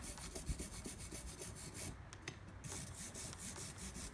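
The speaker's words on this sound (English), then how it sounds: "I'm just cleaning out the teeth, giving them a little brush" A brush scrubs the teeth of a reamer in quick repeated strokes, a close, soft bristly rubbing rhythm with no pauses.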